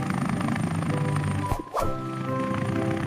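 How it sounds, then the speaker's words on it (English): An animated helicopter in a children's alphabet cartoon whirs with a steady rotor and engine drone, a brief whooshing pass cutting through the middle. "helicopter."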